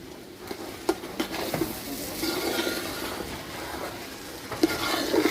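Polao rice toasting in a hot pan crackles softly under scattered scraping stirs and light clinks of a spatula, close and fairly quiet, no one talking.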